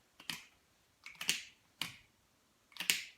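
Four sharp plastic clicks at uneven intervals, close and crisp, like a pen cap snapping open and shut.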